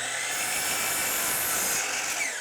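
A miter saw cuts a wood board for a workbench, producing a loud, continuous high whine and tearing buzz close by, sustained through the whole short stretch with no talking.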